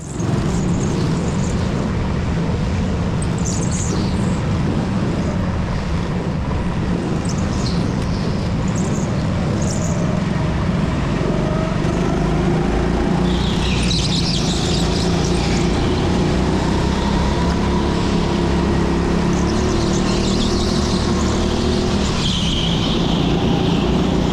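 Go-karts at an indoor TeamSport Leicester track accelerate away after a rolling restart at a banked hairpin, with a loud, continuous engine drone as several karts pass close by and occasional sharper whines and screeches rising over it.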